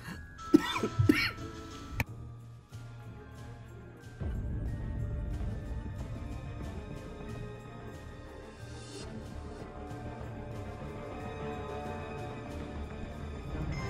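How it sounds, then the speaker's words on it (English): A person coughs and clears their throat a few times in quick, close bursts at the start, followed by quieter background hum. "I'm coughing"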